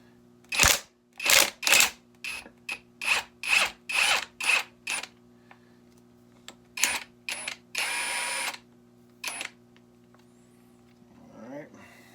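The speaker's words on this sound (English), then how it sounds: "first things first, we gotta get this nut off." Impact wrench taking a 17 mm nut off a Yamaha Banshee engine on a bench vise, a rapid run of loud, sharp bursts followed by a few longer whirring pulls and a hissing blast, with quiet pauses between.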